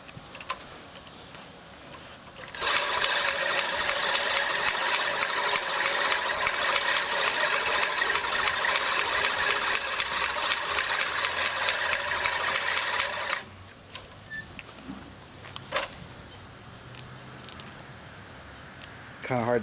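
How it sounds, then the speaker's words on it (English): A Great States reel push mower runs with a loud, steady clattering whir for about ten seconds, starting and stopping abruptly against a quiet background. "this is a push mower made by Great States, and this is a demonstration video on how it works"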